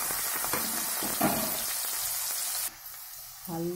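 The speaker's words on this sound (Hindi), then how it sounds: "इसको भून लेंगे।" Garlic, ginger, onion and green chili fry in a pan with a soft, steady sizzle that cuts off sharply near the end, leaving a brief quiet stretch.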